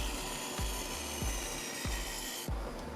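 A hand saw cuts through a wooden board to shape a guitar stand template, with close, steady back-and-forth strokes roughly every half second, rasping and rhythmic, with no voices.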